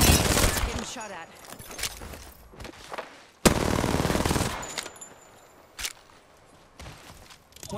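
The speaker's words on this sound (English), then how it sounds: "Getting shot at." Gunfire in the video game Apex Legends comes in loud, close bursts of rapid automatic fire with sharp single shots between them.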